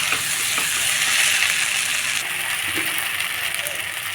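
Chili powder stirred into a frying masala curry for cabbage, a steady close sizzle with faint scraping and small metallic ticks from the spoon, no speech over it.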